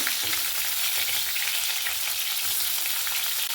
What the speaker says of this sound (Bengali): এবারে পটলগুলোকে নুন হলুদ মাখিয়ে, আর এই তেল গরম হয়ে গেছে, এবার এগুলোকে ভেজে নেব